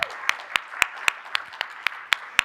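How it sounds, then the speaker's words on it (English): A few audience members clap for the Educator of the Year at an advisory board meeting, sparse, evenly spaced single claps sounding one after another at a moderate distance. "Let's give Mr. Chavaria a round of applause."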